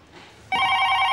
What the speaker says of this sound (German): Das Telefon für dich.